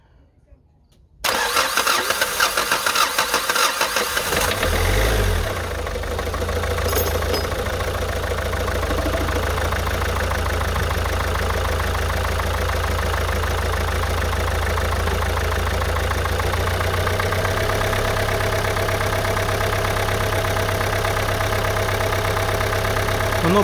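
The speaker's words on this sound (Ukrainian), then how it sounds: "Ну і що, пробуємо заводити." A Renault Megane 2 with a 1.5 dCi diesel engine and a new injector cranks briefly, catches and settles into a steady, loud idle that runs on alone after the start.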